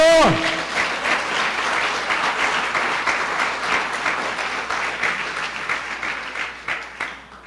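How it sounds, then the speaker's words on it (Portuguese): A church congregation at Nova Vida do Catete applauding after a sermon, a dense sustained patter of many hands that runs for several seconds and thins slightly near the end, with a brief tone at the start. "Uma salva de palmas ao Senhor."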